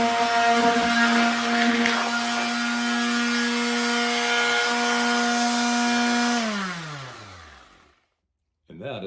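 An electric palm sander runs with a steady high whine and buzzing vibration for several seconds, then spins down with a falling pitch into silence, followed by a brief clunk.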